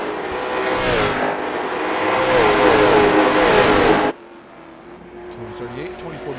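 A race car at Stafford Speedway revs hard and loud for about four seconds, its engine note rising and falling as it runs down the straight, then cuts off abruptly, leaving a fainter engine droning farther away.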